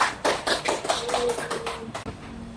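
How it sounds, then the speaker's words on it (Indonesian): A classroom group claps together at the end of a micro-teaching lesson, a burst of several loud, close claps that thin out and stop after about two seconds. "Mari kita beri aplaus untuk kita semua"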